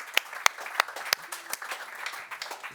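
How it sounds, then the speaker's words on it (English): Scattered applause from a small audience after talks at a presentation event, with a few sharp, distinct claps standing out before it thins to light, irregular patter. "Should we also continue the applause for both of that?"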